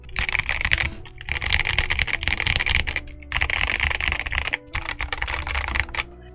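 Steady, fast typing on a Gamakay TK75 SE mechanical keyboard with beige, 80s-style cherry-profile keycaps, close and clattery in three long runs separated by brief pauses.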